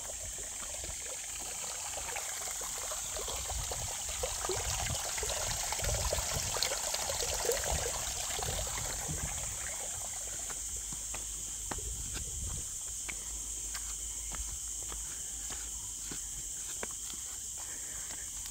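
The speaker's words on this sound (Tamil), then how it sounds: "அழகாக தண்ணி கொட்டுது கொஞ்சமாக." A small stream of water trickling at Thoovam waterfalls on a forest trek, a soft continuous splashing wash with light rustling and occasional ticks, steady and moderately faint with no talking.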